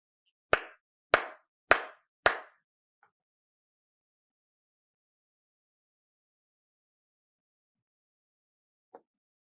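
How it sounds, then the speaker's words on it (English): Four crisp, close hand claps land in a steady rhythm to trigger an Arduino clap sensor, followed by near silence and one faint tap at the end. "So let's do like 3 claps or 4 claps"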